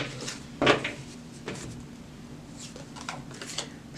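Soft shuffling of tarot cards, a brief riffle and light papery slaps over quiet room noise, close by and fairly faint.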